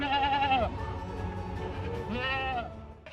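Goats on a goat farm bleat in two loud, wavering calls, one at the start and another near the end, over a low background murmur.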